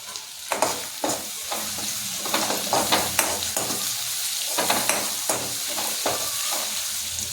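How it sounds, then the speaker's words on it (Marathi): Asafoetida sizzles in hot oil while being stirred, a steady close frying hiss broken by scraping and clinking of the spoon against the pan. "आता आपण यात हिंग टाकूया."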